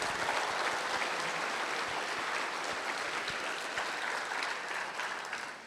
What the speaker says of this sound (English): So a round of applause to our 5 inductees tonight, too.